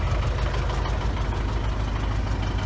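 The engine of an MTZ 921.3 tractor runs steadily nearby, a loud, continuous low rumble with a slight knocking texture and no speech.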